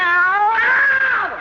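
A cat meows once as a radio comedy sound effect, a loud, close, drawn-out cry with a rising then falling pitch, heard alone.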